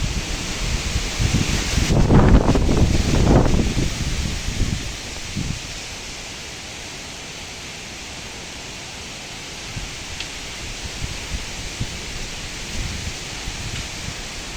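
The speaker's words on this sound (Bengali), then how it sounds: "শুরু হলো বাতাস থেকে বৃষ্টি" A strong gust of wind roars and rustles loudly through foliage for a few seconds, then settles into a steady, hissing wash of rain that continues evenly, with no voices.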